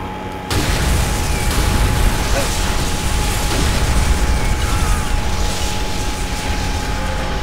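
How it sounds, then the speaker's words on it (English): Explosive charges detonate in the World War II shooter Call of Duty: World at War, a loud sustained rumble of blasts and mechanical clatter that starts abruptly and fills the whole stretch without speech. "Tell me those charges weren't duds."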